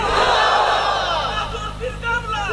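A large crowd at an Islamic religious sermon gathering shouts in unison in answer to a takbir call, a loud massed roar of voices sustained through the clip and slightly easing toward the end.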